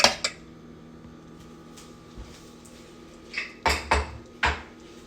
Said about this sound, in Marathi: आता मी कुकर ओपन करतो.